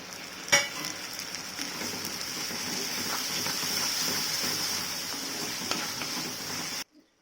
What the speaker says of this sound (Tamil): வெங்காயம் தக்காளி நல்லா வதங்கிருச்சு